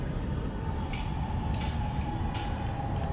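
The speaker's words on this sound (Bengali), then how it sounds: "মেট্রো রেল দেখা যাচ্ছে।" A metro rail train passes close to a station in Bangladesh, a steady, loud rolling rumble with a faint sustained whine running through it and no voices.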